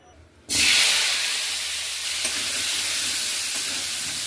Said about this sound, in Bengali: ফুলকপিগুলো প্রত্যেকটা ফুল আলাদা আলাদা করে কেটে নিয়ে নুন হলুদ আর একটু কাশ্মীরি লঙ্কা গুঁড়ো মাখিয়ে রেখেছি এগুলো এবার ভেজে নেব